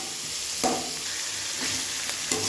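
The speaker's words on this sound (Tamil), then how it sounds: "நல்லா பொன்னிறமாக ஆகிற வரைக்கும் நல்லா வறுத்துறணுங்க" Garlic frying in a pan until golden for a mushroom gravy: a continuous sizzle broken by a few quick stirring scrapes.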